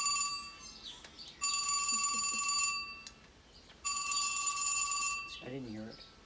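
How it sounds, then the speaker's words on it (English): A phone ringing in a home, with two long bursts of electronic ringing separated by pauses, loud and close, while a person talks briefly between rings. "That's your phone."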